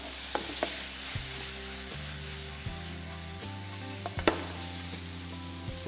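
Small boneless chicken pieces fry in a pan with a steady, even sizzle, broken by occasional light clicks and scrapes of stirring.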